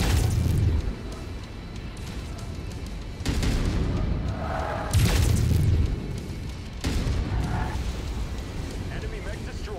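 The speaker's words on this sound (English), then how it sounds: "Reactor explosion detected." Mechs explode in the Mechwarrior 5: Mercenaries video game, a mech reactor blast among several deep booms and bursts of rumbling, layered over ongoing battle noise and a voice speaking throughout.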